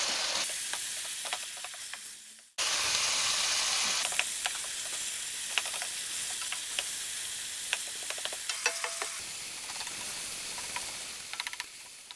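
Fenugreek leaves fry in a pan, giving a loud continuous sizzle with scattered crackles and light stirring clicks, close up, briefly cut off early on before resuming steadily.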